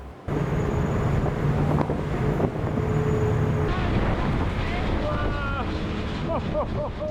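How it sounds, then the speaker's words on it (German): Salt spray and waves wash across the deck of a boat in strong wind on the Strait of Magellan, a constant roar of wind and rushing water with a low engine hum throughout and splashing bursts toward the end. "Wir tanzen auf der Magellanstraße und die Wellen spülen das Salzwasser über das Deck."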